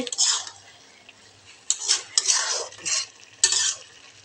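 A utensil stirring puin muchuri in a pan, giving several bursts of scraping and soft sizzling separated by short pauses, close up.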